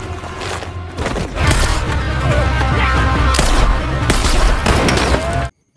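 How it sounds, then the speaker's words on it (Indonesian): Rapid bursts of gunfire and heavy booms fill a film shootout between yakuza gangsters and a female sniper, loud and dense for several seconds before cutting to silence. "Saling tembak pun bergantian."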